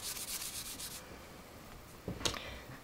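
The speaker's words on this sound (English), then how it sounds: "I'm just going to go over it with my embossing buddy." An embossing buddy is rubbed across a scrap of vanilla cardstock, making a quick run of soft, close scuffing strokes followed by a brief pause and one more short rub.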